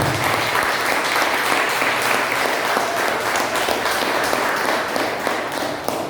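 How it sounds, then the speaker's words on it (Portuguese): A church congregation claps steadily during a sermon, producing a continuous wash of many hands applauding together, loud and sustained without any break. "Quem gosta de aplaudir, vamos aplaudir o Senhor."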